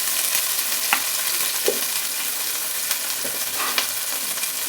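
Rice mixture with added turmeric frying and being stirred in a pan, a steady close sizzle with occasional scrapes and clinks of the spoon, no talking.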